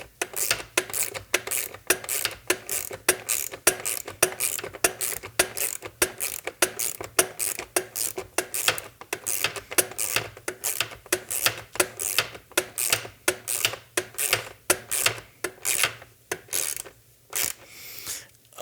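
A long bolt is tightened with a 7/16 wrench under a robot, giving a long run of steady, rapid metallic clicks and rasps, close and evenly paced.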